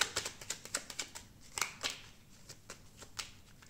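A deck of tarot cards is shuffled and cut in a quiet room, giving a quick run of soft, crisp card flicks and riffles. The sound is close and faint, with no talking.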